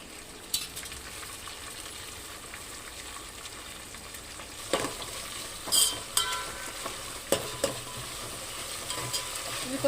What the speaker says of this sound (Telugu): ఇవి కొంచెం ఫ్రై కావాలి.